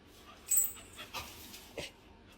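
A dog pants softly and gives a few brief, faint whimpers close by, with short airy bursts scattered over a quiet background.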